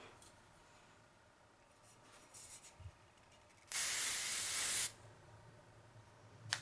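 One steady hiss of an aerosol hairspray can lasting about a second, close by, in an otherwise quiet room with faint rustling.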